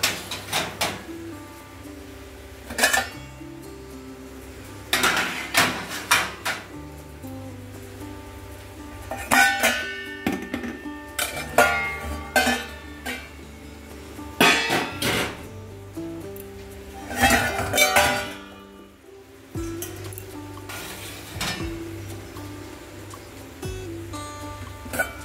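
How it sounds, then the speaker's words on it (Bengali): Dry steel utensils being stacked and put away in a home kitchen, with sharp metallic clinks and clatters arriving in irregular bursts over faint background noise, close to the microphone. "শুকনো বাসনগুলো এখানে তুলে দিই।"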